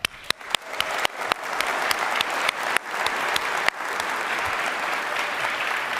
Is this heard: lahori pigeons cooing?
no